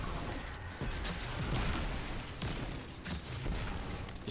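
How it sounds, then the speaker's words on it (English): Skip grenades going off in Destiny 2 combat, a rapid cluster of crackling pops and small bursts mixed with gunfire, dense and continuous for a few seconds. "I'm just going to throw both my skip grenades."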